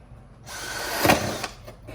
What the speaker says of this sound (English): next up, taking a drill bit to it. It's the biggest drill bit out there.